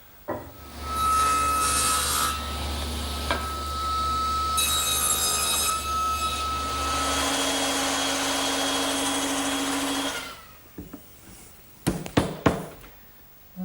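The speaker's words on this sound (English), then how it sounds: "Now I need to cut a tenon on the end of those intermediate supports to fit into those mortises." A tenon cut on the end of a wooden support for an English garden bench, loud continuous cutting and rasping over a machine drone, ending in a few sharp knocks and clatters.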